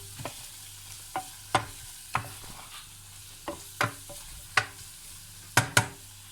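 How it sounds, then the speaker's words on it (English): Masala roasting in a pan, a soft low sizzle broken by about ten crisp scrapes and taps of a stirring utensil at uneven intervals, close by with no voices. "Roast the masala."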